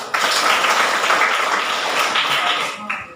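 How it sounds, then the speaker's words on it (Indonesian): Applause from a school assembly of children, a dense steady patter of many hands clapping loudly for about three seconds before tapering off, with faint voices mixed in. "Tepuk tangan."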